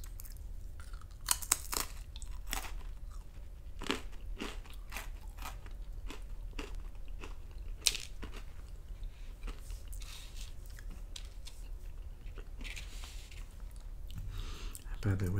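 Close crunching and chewing of Whole Grain Wheat Thins crackers, repeated sharp crisp bites followed by steady munching throughout, intimate and quiet, with soft talking mixed in.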